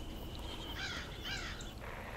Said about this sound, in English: I hear some crows